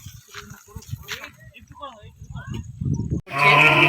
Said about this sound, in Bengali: ওই ছোট মতো বাছুরটা দেখুন ওই গোয়ালটার মধ্যে দাঁড়িয়ে আছে